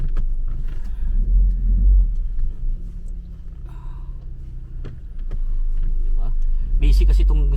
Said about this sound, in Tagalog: Oops, may sasakyan.